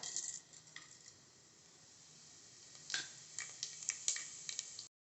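Fennel seeds, cumin, cinnamon, star anise, cloves and cardamom splutter in hot oil for mutton kuzhambu, a soft steady sizzle broken by sharp popping crackles, close and quiet.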